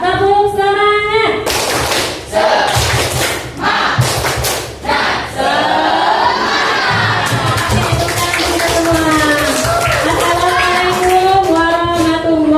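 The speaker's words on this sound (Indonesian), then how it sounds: "Tepuk semangat." Schoolchildren in a classroom chant and clap a rhythmic spirit cheer together, loud shouted voices with sharp claps, filling the room up close.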